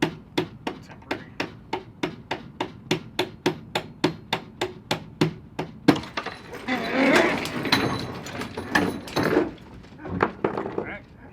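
Sharp hammer blows ring out in a steady rhythm, about two per second, while a part is knocked out of a sailboat mast; after the strikes stop, scraping and rustling follow and people talk.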